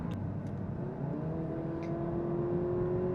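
Audi A3 Quattro accelerating from inside the cabin, a steady broadband engine drone with a slowly rising tone, continuous and fairly loud, with a few faint clicks and no talking.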